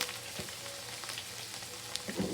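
Breaded chicken fried steak crackles and hisses in hot oil in a pan, a dense, even sizzle with faint pops throughout and no talking.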